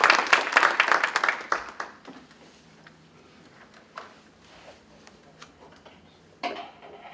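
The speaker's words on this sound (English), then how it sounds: "Let's give him a round of applause to welcome him." An audience at a talk on family farm and business transition claps loudly for about two seconds to welcome a presenter. The applause fades into a quiet room with a few faint knocks.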